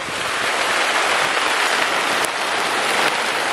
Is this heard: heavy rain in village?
yes